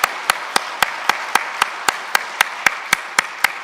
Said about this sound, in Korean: 모두 인사하실 때 큰 박수로 격려해 주시기 바랍니다.